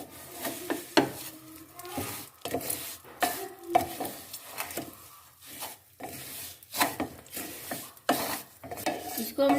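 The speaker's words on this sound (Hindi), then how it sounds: "अब इसमें हम सेवइयाँ डाल लेंगे। और इसको हम अच्छे से मिक्स कर लेंगे।" Vermicelli stirred and fried in melted desi ghee, with repeated scraping and clattering strokes of a spoon in the pan over a faint sizzle, close and uneven in rhythm.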